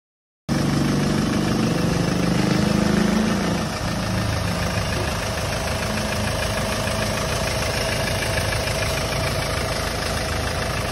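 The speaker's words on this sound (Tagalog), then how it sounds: "fit na umandar na tong makina na ginawa natin" Hyundai Grand Starex D4CB diesel engine idling steadily after an oil pump replacement, a loud, continuous close-up clatter with a slightly heavier surge in the first few seconds, no talking.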